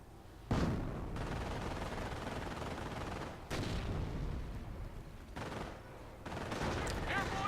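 MP40 submachine gun fire in a World War II strategy game, with dense bursts of rapid shots and booming impacts that start and stop in waves, mixed with other battle noise.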